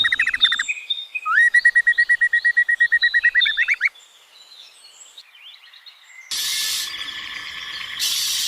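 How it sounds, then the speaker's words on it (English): A quetzal chick gives rapid, eager chirps in a fast repeating series, followed by softer scattered calls and then a brief burst of higher hissing noise, close and clear with no talk. "Quetzal responds with small, eager chirps"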